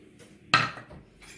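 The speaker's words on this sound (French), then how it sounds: "On va bien mélanger le tout." Homemade fresh tagliatelle being tossed with carbonara cream and gruyère: one sharp clatter of a utensil against a pot or dish, then a short fading rattle and faint scraping in a quiet kitchen.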